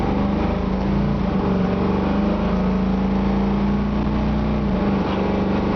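A 1972 Camaro Z28 with a 383 stroker V8 and automatic transmission accelerates, its engine droning loudly and continuously from inside the car as the pitch climbs and dips at the gear changes.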